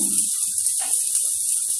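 Water poured over a hot pressure cooker of mutton paye broth, giving a steady close hiss that runs unbroken, with faint clatter underneath.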